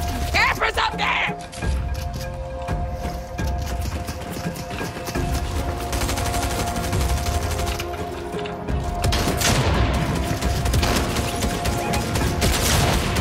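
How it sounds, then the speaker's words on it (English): Sustained bursts of gunfire from campers firing down from higher ground in Fortnite, a dense rattling stream of shots running throughout, mixed with game effects and voices talking over it. "I'm getting shot from campers up there!"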